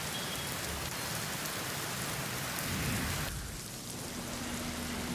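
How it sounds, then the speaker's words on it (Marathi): Heavy rain pours down steadily, a dense hiss close by with no voices. "शहरातील अनेक भागात मुसळधार पाऊस सुरू झालाय"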